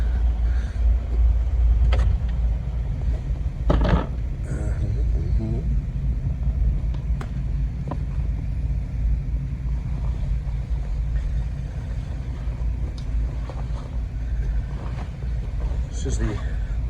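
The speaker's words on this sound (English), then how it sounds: "fired off the main engines." Main engines of a cruising boat at the start of a Great Loop trip toward Fisher's Island run as a steady low rumble throughout, with speech and a few brief knocks over the drone.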